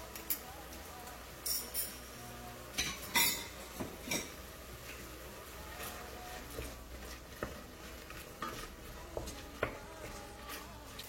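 A spoon stirs tomato paste into a pan of shrimp sauce, giving scattered metallic clinks and taps against the pan over a low background, with a few sharper knocks, close and moderately quiet.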